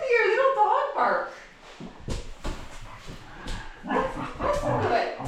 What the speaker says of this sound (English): Listen to that little dog bark.